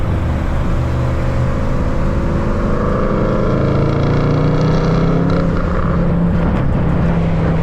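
A Dodge Charger Scat Pack widebody revs with a loud, droning exhaust note that rises and falls, and faint crackling pops come near the end. The sound is close and continuous, with no talking.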